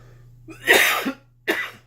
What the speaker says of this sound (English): I'm coughing a little bit more than usual